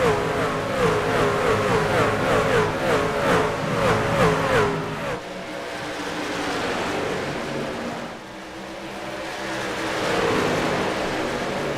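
Racing trucks roar past on the front stretch at Dover under green flag, engines loud and close in a continuous rush that shifts and surges as the pack goes by, with no talk over it.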